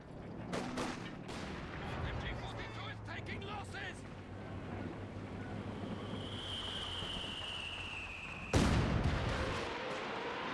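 ZiS field guns in a video game fire repeatedly, heavy booming blasts over rumbling battle noise, with one especially loud close blast late on and a whining shell sound before it.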